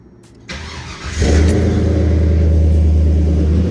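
A car with an LS engine swap cranks briefly, then catches and settles into a loud, steady low rumbling idle, close by with no voices.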